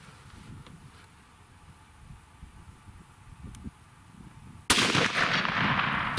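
A single 30-06 rifle shot firing a 180 grain Remington Core-Lokt soft point at a target 100 yards away, one sharp loud crack near the end after quiet outdoor background, with rumbling echo trailing off.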